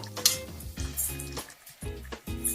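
Duck meat sizzles and crackles in a hot pan, with intermittent scraping and stirring sounds close by.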